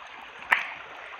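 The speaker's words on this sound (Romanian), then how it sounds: "Cascada Niagara, cascada Niagara, cascada Niagara, cascada." Water pours steadily down a waterfall in a continuous broadband rush, with one brief, louder splash in the middle and no voices.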